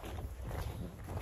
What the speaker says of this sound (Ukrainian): О, ще вітер.